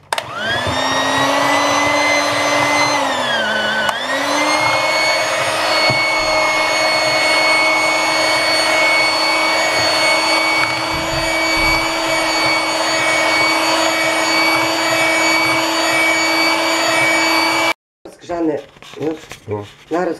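An electric blender whirs steadily while mixing pumpkin pancake batter, with a brief dip in motor pitch early on, running loud and continuous before stopping abruptly; speech follows at the end.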